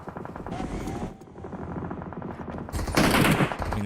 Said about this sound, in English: it does sound more like automatic gunfire than fireworks